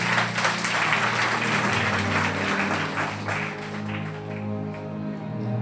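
A church congregation at a Sunday service claps loudly in a dense, sustained burst of applause with a faint tonal hum underneath, easing slightly toward the end.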